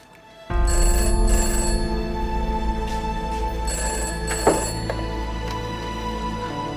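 Telephone bell ringing in a drama scene: a sudden, loud, sustained electronic ring that starts after a brief quiet and continues steadily, with no talk.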